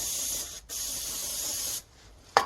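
Brake cleaner hisses from an aerosol can onto the front brakes of a 2008 Chrysler Town and Country, two long, loud, close bursts of spray separated by a brief pause, then a short final spurt.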